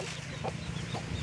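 A mother hen with newly hatched chicks clucks twice in quick succession, close and clear over a low farmyard hum.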